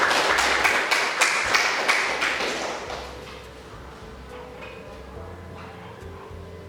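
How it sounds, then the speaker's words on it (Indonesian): Participants at a university lecture session break into a burst of dense clapping that is loud at first, then thins and fades within about three seconds, leaving a quiet room. "tepuk tangan buat saudara-saudara"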